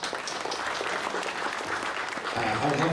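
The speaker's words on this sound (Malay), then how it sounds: "kita patut bagi satu tepukan gemuruh" Steady, loud applause fills a lecture hall as an audience claps together at a 2012 religious talk given by a silat master. The clapping stays dense and even throughout, with a voice faintly audible beneath it.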